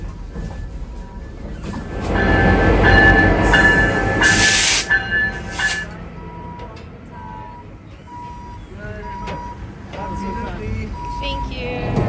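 The White Pass passenger train in Skagway, Alaska rumbles along the tracks, swelling louder with a burst of hissing in the middle, then easing off as faint voices and clicks continue.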